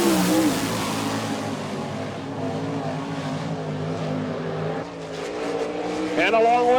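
A sprint car with a Stealth chassis and Fisher motor runs a qualifying lap at Port Royal, Pennsylvania, in an All Star Circuit of Champions event, its engine a loud sustained roar that rises in pitch late on, under an announcer talking over the PA.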